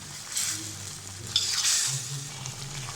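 Chicken coated in ground spices fries in a pan, with a moderate sizzle and a few bright scraping bursts of stirring spaced through the short stretch. No one speaks.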